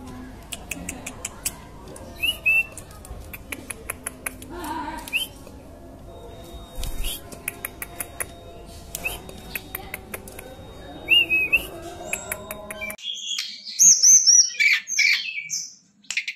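A hill blue flycatcher (Cyornis banyumas) sings whistled phrases and chirps that repeat over a background of other birds, ending in a louder burst of clear, close whistling notes.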